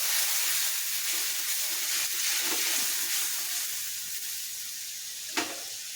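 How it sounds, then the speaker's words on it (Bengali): Steady sizzling and frying hiss of spices, including asafoetida, in a hot pan after a little water is added, loud and continuous, with a brief clink near the end. "জল দিচ্ছি একটু মশলাটা ভাজা হোক"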